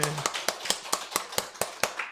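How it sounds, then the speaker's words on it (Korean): A church congregation at a Christmas service claps together in a steady, even rhythm of about nine sharp claps, moderately loud and fairly close. "우리 크게 박수 칩시다"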